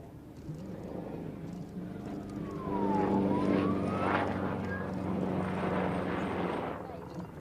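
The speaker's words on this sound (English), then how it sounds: "a unique pairs routine featuring an AW139 and a King Air 200" An AW139 helicopter and a King Air 200 turboprop flying a pairs display at the Malta International Airshow, a steady loud engine drone swelling as they pass with a shifting whine, under a commentator's voice.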